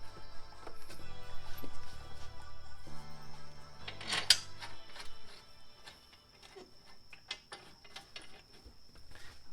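A ratchet wrench clicks rapidly while tightening brake caliper bolts on a Lexus IS during a big brake kit caliper upgrade, with close mechanical ratcheting and a few metallic clanks.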